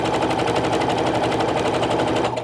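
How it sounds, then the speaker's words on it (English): A sewing machine runs a quilt block seam, a loud rapid rattling of needle strokes, even and close, stopping abruptly at the end. "Sew all the way down."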